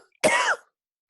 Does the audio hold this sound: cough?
yes